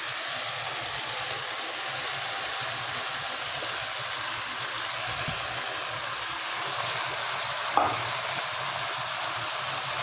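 Chow mein noodles with vegetables stirred into sauce in a hot pan give a steady, loud frying sizzle that runs for the whole stretch, with one brief clink near the end and no talking.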